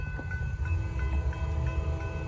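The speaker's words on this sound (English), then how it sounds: "Northbound, first train of the day." Norfolk Southern northbound freight train led by three C6M locomotives rolls past close by, a loud steady rumble of diesel engines and rail noise with faint tonal whine.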